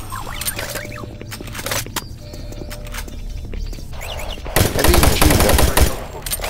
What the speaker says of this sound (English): I love the machine gun.